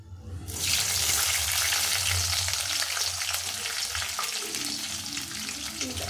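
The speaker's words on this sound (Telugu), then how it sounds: "ఆయిల్లో వేసేయడం మొత్తం అన్నీ కూడా ఎలా పిండేసి ఆయిల్లో వేసాయి." Squeezed bitter gourd pieces drop into hot oil and burst into a loud, steady sizzle that carries on evenly with no talking.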